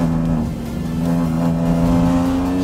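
A Kia Picanto race car pulling out of a corner in third gear, its engine droning loud and close in a steady rising tone with no voices over it.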